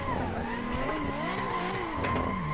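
Sim-racing car engine in Assetto Corsa, a drifting Nissan such as an S13, S15 or 370Z, held at steady high revs with wavering pitch as the car slides and spins out, loud and continuous throughout.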